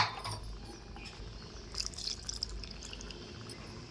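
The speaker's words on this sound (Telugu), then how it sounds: "పులుపు వేసిన తర్వాత కొద్దిగా వాటర్ కూడా వేసుకోండి" Water trickling and dripping into a crab curry pan, a faint, soft splashing against a low background hum.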